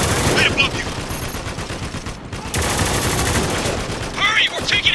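Enemies pour heavy, sustained gunfire in Spec Ops: The Line, with dense overlapping automatic bursts, a brief lull partway through, then more rapid shots close by.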